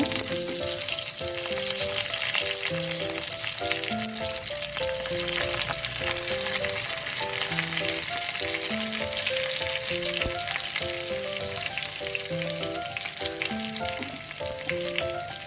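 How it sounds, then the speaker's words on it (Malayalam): Ginger and curry leaves sauté in a pan for puli inji, giving a steady, close sizzle and frying crackle that runs unbroken for about fifteen seconds, with no speech. "ഇട്ട് നന്നായി വഴറ്റണം. നന്നായി മൂത്ത മണം വരുന്നുണ്ട് ഇഞ്ചിയുടെ ഒക്കെ കറിവേപ്പിലയുടെ ഒക്കെ."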